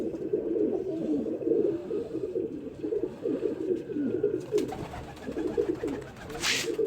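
Several pigeons give soft, throaty cooing in repeated rolling bursts, close by, while they are held and dyed, with a brief rustle and a sharper noise near the end.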